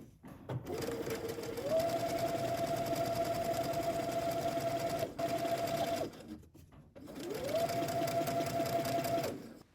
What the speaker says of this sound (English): So along the bottom edge, we're going to stitch a 1/2 inch from the edge to create a casing.